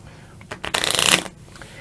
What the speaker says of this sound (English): you shuffle up the color that you're playing with